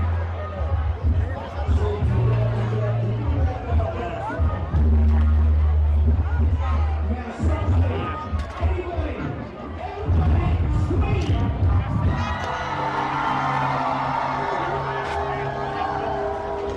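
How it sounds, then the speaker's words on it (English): Crowd at the Moonlight Bazaar in Saint John, N.B., a dense babble of many voices close around, with a low steady hum underneath and nearby talk mixed in throughout. "Now making it through the crowd again."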